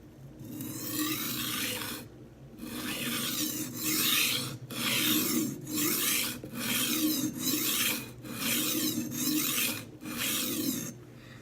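A knife blade stroked repeatedly across a coarse sharpening stone with mud on it, giving rhythmic rasping passes of about a second each, separated by short pauses, close and steady with no talk.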